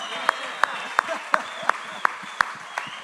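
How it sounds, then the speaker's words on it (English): Audience claps for Corey's upside-down surfboard with top-mounted, tweaked features, heard as a slow, steady run of sharp, separate claps over a room murmur. "Can everyone give Corey a round of applause for the upside down board"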